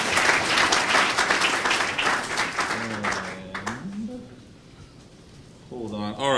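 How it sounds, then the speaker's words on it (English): Applause from a tech meetup audience, a dense wash of clapping for several seconds that fades out, with voices talking over it and a short burst of clapping returning at the end. "How about another round of applause for Lewis?"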